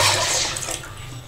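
Water pours into a pot for cooking dal, a short rushing splash that starts loud and tapers off, close by and alone.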